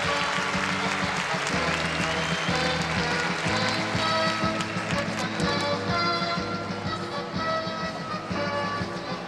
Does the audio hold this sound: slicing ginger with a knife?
no